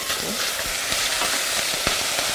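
Okra sizzles and fries in hot oil in a pot, a steady dense crackle with a few sharper pops, close and continuous with no talking.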